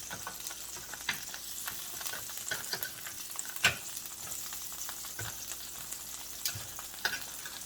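T-bone steaks sizzling in a hot pan as they are flipped, a soft steady fry broken by scattered sharp clicks and scrapes from turning the meat, close and fairly quiet.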